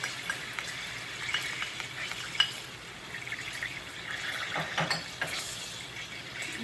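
Chopped onions sizzle and crackle steadily in a hot pan while being stirred for Bicol Express, a continuous close frying hiss with occasional scraping.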